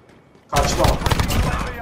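Rapid bursts of automatic gunfire in the multiplayer video game Call of Duty Modern Warfare erupt suddenly after a quiet moment and continue loudly, dense and rattling, as a player's voice is mixed in.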